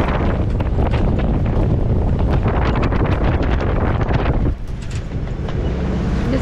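Strong wind buffets a sailboat on a messy, choppy sea in a constant 23 to 25 knot breeze, loud roaring gusts and wave wash hitting the microphone throughout with no voices, easing briefly near the end.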